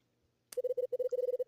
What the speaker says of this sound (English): It keeps beeping as I slowly regain my focus.